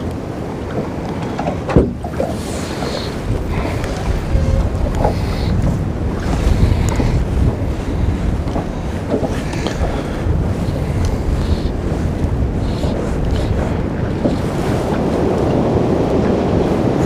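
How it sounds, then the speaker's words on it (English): Strong wind roars over a boat on open water in snowy winter conditions, a constant loud buffeting rush with gusts and microphone wind noise, waves slapping underneath and no voices. "the wind is blowing so hard up this direction"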